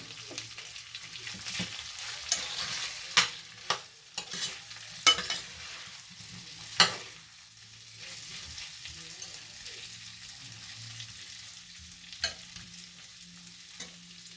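Potatoes frying in a pan for smothered potatoes, a quiet continuous sizzle broken by irregular sharp scrapes and knocks of a utensil stirring them, close, with a low hum underneath.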